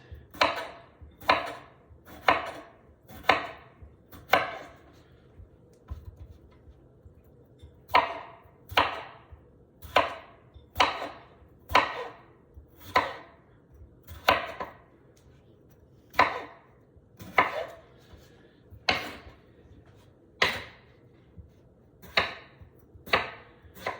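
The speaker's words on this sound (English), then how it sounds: "slicing the potatoes, getting them on the pot to boil with the kale" A knife slicing potatoes thinly on a cutting board, crisp regular chops landing roughly once a second in a long run, close and clear, with a brief pause partway through.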